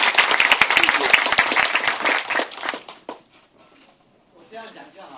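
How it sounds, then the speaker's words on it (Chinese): An audience at a film director's talk breaks into dense, loud clapping for about three seconds, which quickly dies away before a voice starts speaking. "请大家我们再热烈一点的掌声。"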